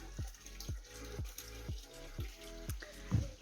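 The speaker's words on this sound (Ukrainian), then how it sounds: "Водичка тут постійно тече біля джерельця." Water flowing steadily at an iron-rich mineral spring, with a regular gurgling pulse repeating roughly twice a second, close and moderately loud.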